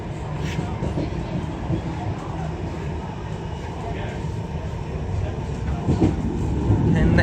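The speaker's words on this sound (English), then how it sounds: "just leaving Old Trafford tram stop" Manchester Metrolink tram pulling away from the Old Trafford stop on a warm day, a steady low rumble and rolling rail noise filling the cabin, building slightly toward the end.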